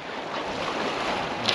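Steady rushing sea waves around a sailing boat on open ocean, a continuous broadband wash of water and wind noise, fairly loud and close with no voices.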